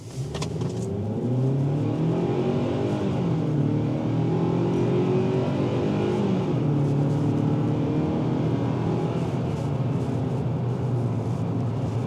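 2026 Kia Sportage X-Pro Prestige AWD accelerating at full throttle, its engine note rising steadily through the revs and then settling into a sustained drone, heard from inside the cabin, moderately loud and with no talk.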